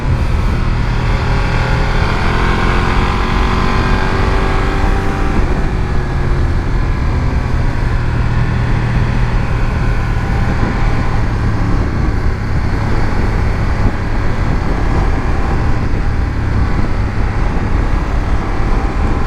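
A BMW F900 XR motorcycle on the road, its engine droning steadily under loud rushing wind for a long continuous stretch, with subtle shifts in pitch as speed changes.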